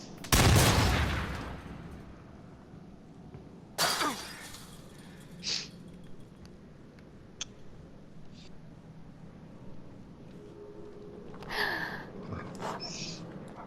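Gunshots ring out in the horror video game Until Dawn: a loud blast at the start, then several more spaced shots and impacts over quieter game ambience.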